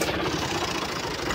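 A tractor engine runs steadily close by, a dense, even rumble with a knocking low-end throb that holds without a break for the whole moment.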